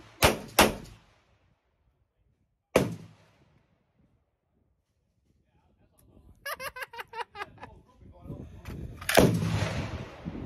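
Shots from an FN Five-seveN pistol crack at a shooting range: two quick reports, a lone shot, then after a pause a string of rapid shots and a final loud blast, with people talking between them.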